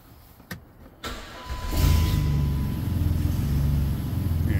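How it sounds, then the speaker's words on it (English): A few clicks, then a Caravan minivan engine with an exhaust leak cranks and starts, settling into a loud, rough, raspy idle with a pulsing low rumble. "Got my caravan in the shop finally to do that exhaust leak."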